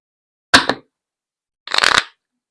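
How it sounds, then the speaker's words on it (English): Oracle cards being shuffled in two short, crisp riffling bursts separated by silence, close and clear. "Because I'm ready to pull cards"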